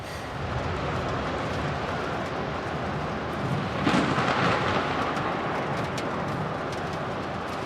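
A steady wash of heavy rain hisses throughout a thunderstorm, with a rumble of thunder swelling briefly near the middle before easing back under the downpour.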